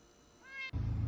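A cat gives a short, rising meow that ends abruptly and gives way to a low rumbling thud, fairly quiet and close with no talking.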